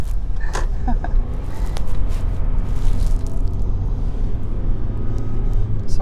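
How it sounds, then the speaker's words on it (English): A loud car drives along on a sleepy trip home, with a constant low engine and road roar close by and only faint brief sounds above it. "Sorry about how loud the car is."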